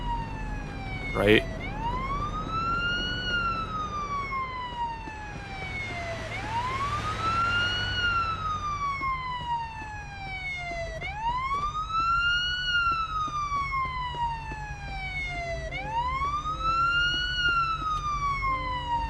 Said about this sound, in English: I think the ambulance is just stuck there.